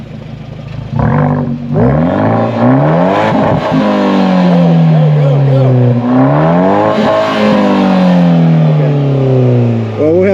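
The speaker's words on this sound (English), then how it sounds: "I want you to rev it so we can get your exhaust sound." A car engine revs repeatedly, its exhaust note climbing and falling in several loud, close pulls with a throaty drone between them, while a voice briefly calls out over the first rev.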